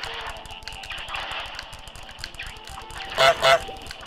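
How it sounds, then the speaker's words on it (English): Geese honk in a video game, two loud close honking bursts near the end over a steady busy background of game sounds. "I'm focusing on all the geese."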